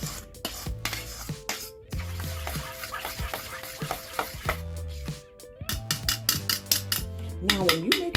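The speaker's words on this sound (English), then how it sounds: "I'm just going to put it in the pie crust" A spoon scrapes and clinks against a dish while quiche filling of spinach and onion is ladled into a store-bought pie crust. Repeated close, sharp taps and knocks come at an irregular rhythm.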